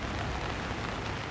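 Steady rain falls at Cottesloe Beach, Australia, a dense, even hiss of drops on surfaces that holds constant throughout with no voices.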